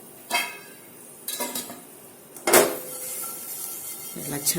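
Cowpea seeds and cumin are stirred in a pan over a low flame, with a few scraping and clinking strokes of a spoon against metal and faint sizzling between them while someone speaks.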